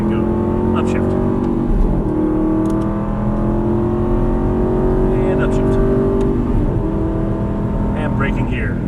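Race car on a track accelerating hard out of a corner, engine pitch climbing in repeated sweeps through upshifts, loud and close from onboard, with no talk over it.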